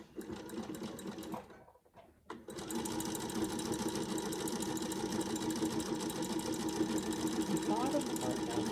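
A sewing machine sews down a strip of fabric-scrap trim with a close, steady whirring hum, briefly pausing near the start before running continuously at even speed.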